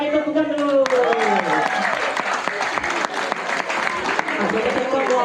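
Sustained applause from a crowd, dense clapping with cheering and voices mixed in, fairly close and loud throughout.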